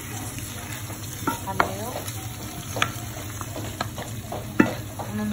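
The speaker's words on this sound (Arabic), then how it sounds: "ونحط مع البصل والثوم في قلاة، حطيت الجمبة والكالامار" Shrimp and calamari frying in olive oil with onion and garlic for seafood spaghetti, a dense close sizzle with repeated sharp utensil clicks and scrapes from stirring; a single short spoken word.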